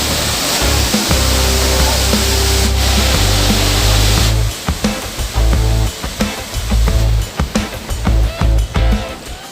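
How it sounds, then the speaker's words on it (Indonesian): A tiered waterfall cascading between dark grey rocks roars as a steady loud broadband rush, partly masked halfway through by close, irregular rustling and bumping sounds. "Gemuruh air mengalir bertingkat-tingkat di sela bebatuan berwarna"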